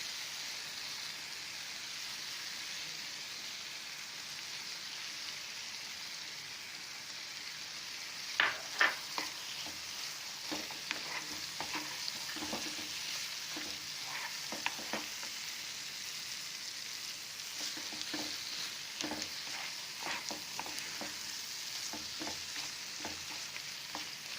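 Fried paneer stuffing with coriander sits in a pan after the heat is turned off, giving a soft, steady sizzle. Scattered light taps and scrapes of stirring come in over the second half, with no talking.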